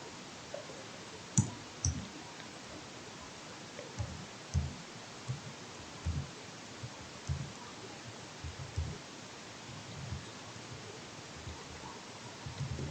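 A computer mouse clicks during ArcGIS map work, a dozen or so short, soft taps spaced irregularly a second or two apart over a steady faint hiss, close and quiet.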